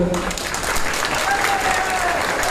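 A crowd claps in dense, steady applause at an outdoor political rally held by Harish Rawat in Ramnagar, Uttarakhand, during the 2022 Parivartan Yatra, loud and continuous throughout.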